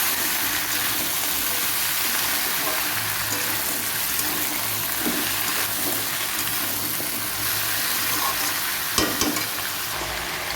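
Vegetables frying in a pan for a home-style Bengali curry, a steady loud sizzle over ten seconds with occasional soft stirring knocks and scrapes.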